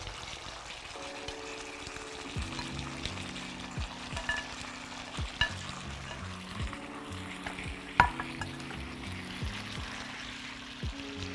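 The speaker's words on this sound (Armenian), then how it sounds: "հիմա այս համեղության վրա ավելացնում ենք տապակված կարտոֆիլը" Fried potatoes tipped into a pan of sauce, with a steady close-up sizzle running throughout, under soft stirring scrapes and a few sharper clicks from utensils against the pan.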